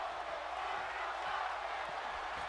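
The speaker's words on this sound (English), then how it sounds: "As you can hear the crowd split for Tyler Breeze" A wrestling arena crowd in WWE 2K18 keeps up a steady roar of mixed cheering, a distant, even wash of voices throughout.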